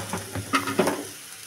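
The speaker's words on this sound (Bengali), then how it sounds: "ঝিঙেগুলো দিয়ে আমি একটু নাড়াচাড়া করে নিয়ে নরম করে নিই।" Sliced ridge gourd being stirred in a frying pan with browned potatoes, a soft sizzle under short scraping strokes of a spatula, close and fairly quiet, with no talking.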